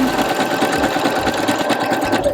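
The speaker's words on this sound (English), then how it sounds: "we're gonna take it to the sewing machine and sew it." A sewing machine runs steadily at close range, stitching homemade underwear, its needle hammering out a fast, even rhythm of stitches with a mechanical whir underneath.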